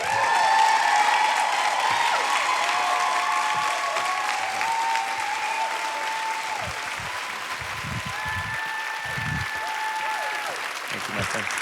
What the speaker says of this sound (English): I invite you to cheer and clap and embrace what is ever in your heart